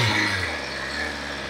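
A BMW S1000 RR inline-four superbike idles with a steady, throaty exhaust note, loud and close, with no one talking over it.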